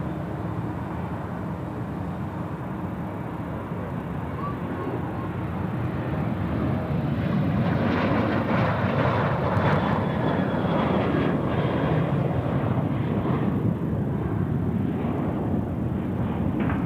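Jet airliner engines roar continuously at Sydney Airport, a heavy broad rumble that swells slightly midway as an aircraft passes, steady and fairly close with no talk.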